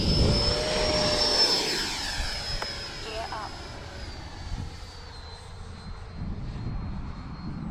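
A jet engine whines high and steady as a Freewing L-39 Albatros RC model jet passes overhead in the evening, its pitch dropping gradually as it moves away. Faint voices murmur in the background.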